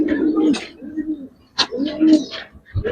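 Giribaz and Pankhi pigeons coo close by in soft, rolling low calls, several bursts over a few seconds, with a voice briefly heard in the background.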